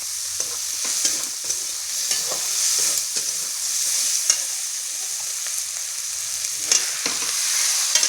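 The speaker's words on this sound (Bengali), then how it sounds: "ভালো করে মশলাটা কষিয়ে নিতে হবে" Steady sizzling of spices frying in a pan for a dried fish dish, with repeated scraping strokes of a spatula stirring, close and continuous, no voices.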